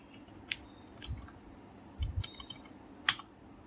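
A password typed on a computer keyboard in a quiet room: a handful of sparse, close key clicks and taps in an uneven rhythm over a low background hum.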